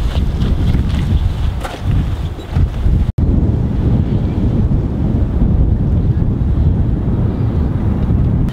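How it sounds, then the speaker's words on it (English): Strong wind buffets the microphone with a constant low rumble and roar, outdoors by the water in Barrie, Ontario, with one brief dropout. "Pretty windy down here"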